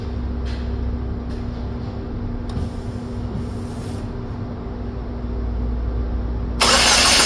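A 2009 Saturn Aura with the 2.4 engine cranks without starting, a steady starter grind running several seconds under a low constant hum, ending with a sudden burst of broadband noise near the end.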